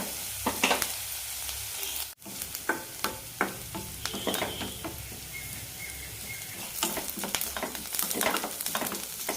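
Onions with ginger, garlic and green chillies sauté in a pan, a continuous sizzle broken by frequent scraping stirs and clacks of a spatula, close and moderately loud, with no voices.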